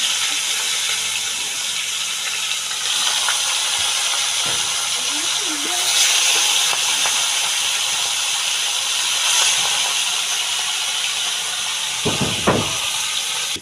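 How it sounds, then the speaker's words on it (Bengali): Rupsha sea fish frying in hot oil in a heated wok, giving a steady broadband sizzle and hiss that swells slightly as pieces go in, with a few faint thumps and bits of background sound. "তো আমি সাগরের রূপসা মাছটা এখন আমি ভেজে নিব।"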